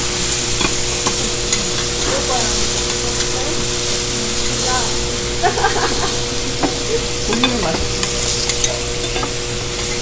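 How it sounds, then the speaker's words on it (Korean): Bean sprouts stir-fried Japanese style on a steakhouse grill in Kobe: a steady loud sizzle with spatula scraping, under a restaurant hum with voices talking in the background. "이렇게 숙주나물도 일본식으로 볶아서 주니까 되게 좋죠"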